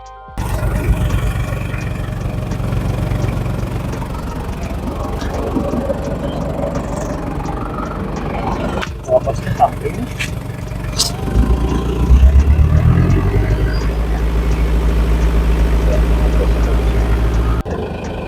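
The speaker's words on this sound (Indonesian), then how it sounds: "Lalu kita coba dengerin suara engine dan knalpotnya aja ya ketika kita nyalain." A diesel Mercedes-Benz G-Class W463 engine cranks and starts, then settles into a steady low rumbling idle, fairly loud and close, with a brief rise in revs.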